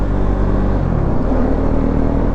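A Husqvarna Svartpilen motorcycle accelerating hard in third gear, a loud, close, continuous engine roar with a shift in pitch partway through.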